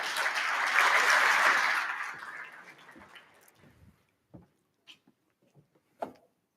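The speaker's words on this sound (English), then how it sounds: "May you please give him a round of applause." Conference audience at a stakeholder roadshow in Johannesburg breaks into a burst of clapping that swells and then fades out over about three seconds, leaving a few isolated clicks and knocks in a quiet room.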